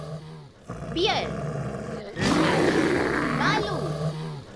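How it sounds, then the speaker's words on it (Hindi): A bear roars in loud, rough, drawn-out bursts, one shorter call early on and a longer sustained roar that fills the second half, with no talk. "भालू।"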